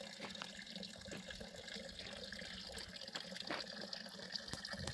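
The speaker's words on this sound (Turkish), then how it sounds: "Burası da yaylamızda bulunan çeşmelerden bir tanesi. Sakin sakin kendi kendine akıyor." Water runs steadily from a fountain at a mountain highland pasture, a continuous close, gentle splashing flow with no talk over it.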